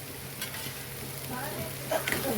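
Ridge gourd curry with turmeric frying in a pan while it is stirred, a steady soft sizzle with faint scraping, and a few sharper clinks near the end.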